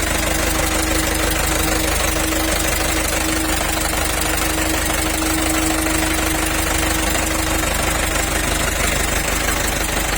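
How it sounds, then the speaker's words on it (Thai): A Mitsubishi Canter six-wheel dump truck's 100-horsepower diesel engine idles nearby with a steady, knocking clatter that holds constant throughout. "เดี๋ยวจะให้ฟังเครื่องครับ"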